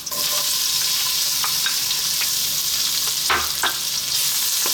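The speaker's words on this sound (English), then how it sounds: "Gonna just drop that garlic in, chopped garlic, and then our onion." Chopped garlic and onion fry in sunflower oil in a wok with a loud, continuous, close sizzle, broken by a few stirring knocks and a sharper clatter near the end.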